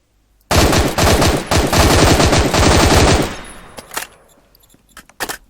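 Loud rapid automatic gunfire from the video game Phantom Forces bursts for a few seconds, then a handful of scattered single shots trailing off.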